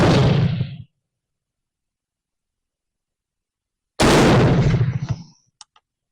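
A Snider rifle fires a black powder cartridge loaded with 1F Graphenson's powder: two loud, sharp reports several seconds apart, each with a short rumbling decay, and faint clicks trailing the second.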